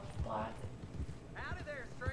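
A horse's hooves clip-clop at a walk in the video game Red Dead Redemption 2, an even rhythm of soft thuds close by while someone talks over them.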